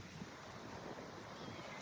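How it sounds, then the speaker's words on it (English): Steady wind blowing outdoors, a continuous broadband rush with microphone buffeting, loud and close throughout with no other distinct sounds. "Especially that it's pretty windy out here."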